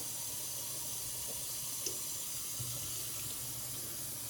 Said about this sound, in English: I'm going to add 2 more cups, so that's 4, of water.